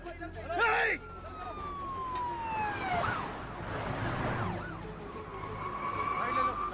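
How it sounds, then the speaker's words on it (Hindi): A police siren wails with rising and falling sweeps over traffic noise, loud and fairly close, with a brief shout near the start. "पुलिस की गाड़ी आ रही है, जल्दी।"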